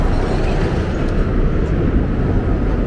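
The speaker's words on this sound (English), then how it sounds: "So, this train is going at top speed now, approaching 30 miles an hour." A New York subway train runs at top speed, near 30 miles an hour, on the elevated Manhattan Valley Viaduct along Broadway, producing a loud, steady, close rumble and rattle of wheels and cars.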